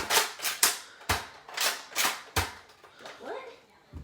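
A Nerf toy gun fires several sharp, dry snaps in an uneven rhythm, close and fairly loud, with brief talk in between.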